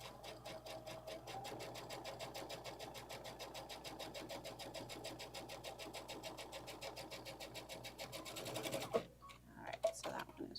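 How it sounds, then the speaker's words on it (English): Sewing machine top stitching at a 3 to 3.5 millimeter stitch length, a steady fast mechanical whirring and ticking that runs evenly for several seconds, then stops with a few small clicks. "So now we're just going to top stitch real quick."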